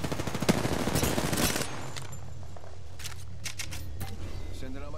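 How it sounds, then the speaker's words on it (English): Rapid automatic gunfire in the battle-royale shooter Apex Legends, a dense burst of close shots for the first second and a half, then scattered distant pops, with a player talking over it. "Yeah, it's shooting at me."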